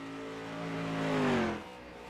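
Race car engines in a racing video game rev and whine, one tone rising in loudness and then sliding down in pitch as a car sweeps past, with no talk.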